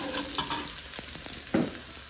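Shallots are stir-fried in a pan as the base for fried rice, a dense continuous sizzle broken by a few soft stirring scrapes and one louder burst, heard up close with no talking.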